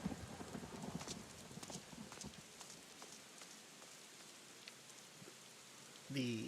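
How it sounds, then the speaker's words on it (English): Rain in a video game falls as a soft, continuous patter, with irregular tapping and knocks mixed in and a louder burst at the very end. "The environment, the rain, the thunder"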